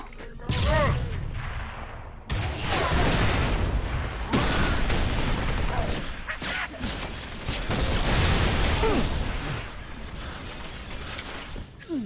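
A grenade blast and heavy gunfire erupt through a Halo 3: ODST campaign battle on the Coastal Highway, with dense overlapping bursts, booms and rattling shots throughout and brief shouted voices mixed in.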